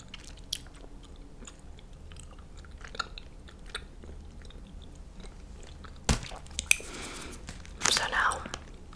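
Sour gummy candies chewed close to the mic in soft, sticky bursts, with a few louder crunchy bites near the end and quiet breathy whispering between them.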